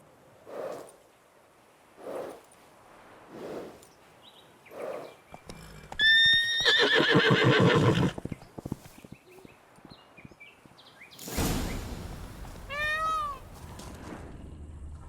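Roach, Geralt's horse in The Witcher 3: Blood and Wine, gives a loud whinny and snorts, with hoof clops and a cat's meows in between, set among soft intermittent game sounds.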